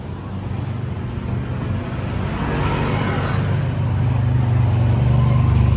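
Engine of a car trike running steadily through its exhaust close by, with a continuous low rumble that grows slightly louder toward the end.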